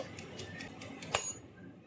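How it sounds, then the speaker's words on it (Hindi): An air fryer's timer bell rings once when done, a single bright ding that decays quickly after a run of faint ticking, close and fairly quiet. "आप 0 पे आते ही ये टन टन घंटी बोलेगा"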